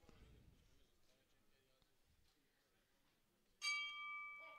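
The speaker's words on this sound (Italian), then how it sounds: "Suona il gong, parte il primo round, Armando subito al centro ring" A boxing ring gong strikes once at a studio boxing event, a sharp metallic ring with a sustained, slowly fading tone that follows a stretch of low background murmur.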